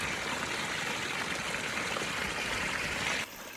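Mountain stream water in Albania rushes steadily and loudly as a bottle is filled, a dense continuous gurgle that cuts off abruptly just before the end.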